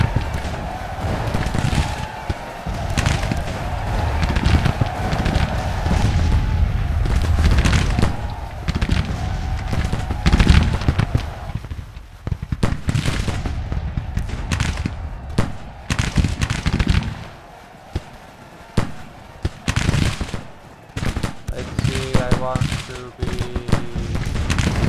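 Musket volleys crackle in a Civil War battle game, with dense rolling bursts of rapid gunfire that thin out into scattered sharper shots, loud and continuous with occasional voices mixed in.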